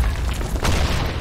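A grenade goes off in the BlackShot online shooter, a single dull boom rolling out amid other game noise, with no voices.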